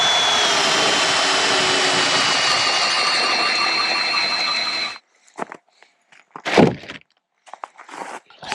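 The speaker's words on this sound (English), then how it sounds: "I just drilled the hole." A drill bores a hole through a deck for a tieback on an off-grid cabin build in northern Minnesota, a loud steady motor whine for about five seconds that cuts off, followed by scattered knocks and handling thumps.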